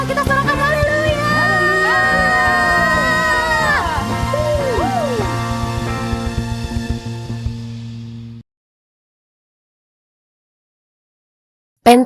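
A worship congregation cheers and shouts hallelujah together in a loud, sustained crowd roar with sliding voices, which cuts off abruptly into silence before a brief burst at the end.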